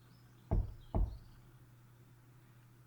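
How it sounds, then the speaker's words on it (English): Two firm knocks on a wooden door in a storybook setting, close and distinct, about half a second apart, followed by quiet room tone. "Little Red Riding Hood came joyfully to her Granny's house and knocked on the door."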